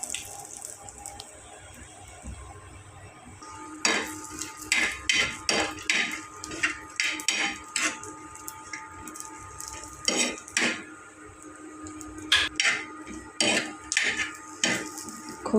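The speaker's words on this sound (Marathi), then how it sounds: "चला तर खोबरं भाजून घेऊया." Dried coconut dry-roasted in a pan, stirred with a utensil that scrapes and clinks against the metal in a quick, rhythmic run of close, sharp strokes after a quieter start.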